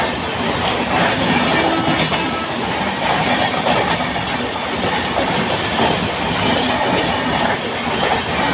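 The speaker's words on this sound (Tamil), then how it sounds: "நேத்ராவதி எக்ஸ்பிரஸ் வருது" The Netravati Express train rushes past close by at Punkunnam, a loud continuous rumble with rhythmic clattering of wheels over rail joints and a brief high squeal near the end.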